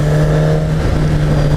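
Engine of a 2015 Kawasaki Ninja ZX-10R sport motorcycle pulling hard in third gear at full power, a steady loud drone that stays close and unbroken throughout.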